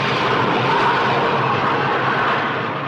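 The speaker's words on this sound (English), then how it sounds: "Sometimes a plane misses the last wire and goes around again." A jet plane going around after missing the last arresting wire on an aircraft carrier deck, a loud, steady broadband roar that fills the space without break and fades slightly at the end.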